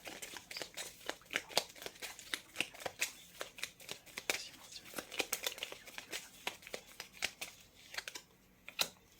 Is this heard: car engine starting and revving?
no